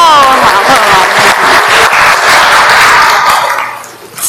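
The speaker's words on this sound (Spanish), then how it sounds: "Un aplauso, por favor." Congregation applauding at a Sunday church service, a loud, dense wash of clapping that holds steady for about three and a half seconds before fading out.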